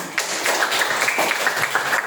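A short round of clapping from students in a junior high school classroom, brisk overlapping claps from a small group, fairly close and steady for about two seconds.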